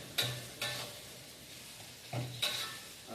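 Hilsa fish being stir-fried in a pan, with a few separate scraping strokes of the spatula over a low sizzle, loud and close with pauses between them and no talking.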